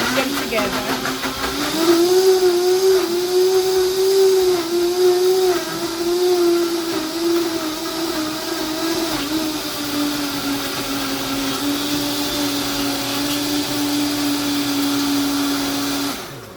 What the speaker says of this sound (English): Look how fine the blender blended.